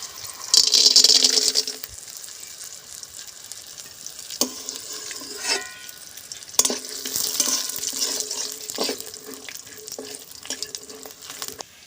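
Green chillies and raw peanuts fry in mustard oil in a wok while kochu shak ghonto is being made, giving a hissing sizzle with sharp bursts and intermittent scraping stirs, close by and with no one speaking.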